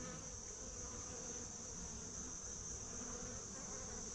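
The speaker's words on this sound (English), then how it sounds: "Bunches and bunches of little busy bees in there." Honey bees swarm around an opened backyard hive, a dense, steady buzzing drone that holds at an even level throughout with no voices.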